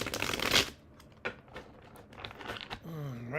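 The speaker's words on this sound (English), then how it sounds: "I like to shuffle really good." Tarot cards being shuffled vigorously, a dense crisp riffle of card edges up close followed by scattered softer flicks and shuffles.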